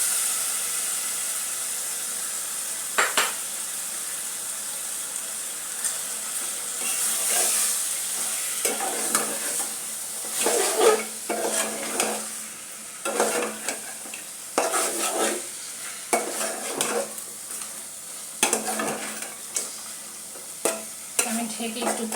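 Pigeon meat sizzles in a pan with cooked-down spices, with a steady frying hiss and repeated scraping strokes of a spoon stirring at irregular intervals, close and fairly quiet.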